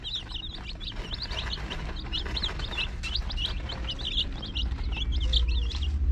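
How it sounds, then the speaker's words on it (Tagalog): Rhode Island chicks, newly hatched and kept together in a mixed group, cheep in a busy chorus of high, repeated peeps, close and continuous over a low background rumble. "Ganyan yung mga sisiw na Rhode Island."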